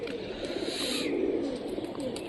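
Rajshahi Giribaz pigeon cooing softly and steadily, a low continuous murmur close by, over faint background noise.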